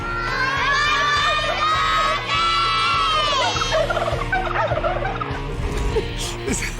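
Turkeys gobble loudly and repeatedly in rattling bursts, layered over a noisy crowd of shouting, cheering children.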